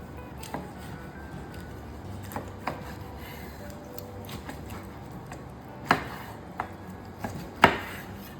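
A knife slicing through a smoked pork short rib rack on a cutting board, a handful of irregular thuds and clicks as the blade hits the board, close and fairly quiet over faint background hiss, no talking.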